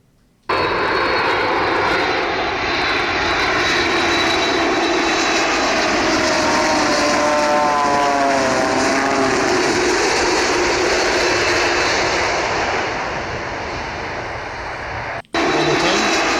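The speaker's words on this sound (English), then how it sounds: "second Boeing 787 coming to land with the RAT deploy" A Boeing 787 comes in to land with its ram air turbine deployed, producing a loud, steady roar with a whining, rising-and-falling propeller buzz layered over it, which cuts off abruptly near the end.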